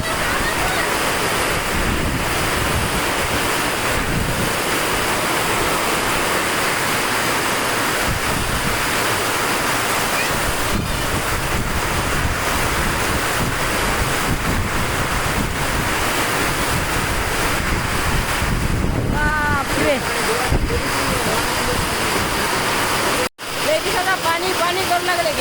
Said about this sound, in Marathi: बघा पाऊस किती जोराचा चालू झाला.